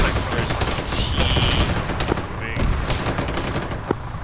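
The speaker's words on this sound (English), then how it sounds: "Some sort of autocannon direct fire onto Alpha Mess" Rapid bursts of autocannon direct fire pound a position in a combat zone, loud and close with repeated sharp reports over constant battlefield noise, voices faintly mixed in.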